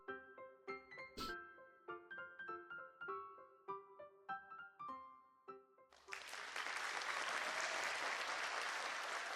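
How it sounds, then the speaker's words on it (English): Audience applause in the video game Flowers swells suddenly into a dense, sustained roar of clapping after a stretch of plucked, bell-like music, and continues loudly to the end. "No one is attempting to quell the applause anymore."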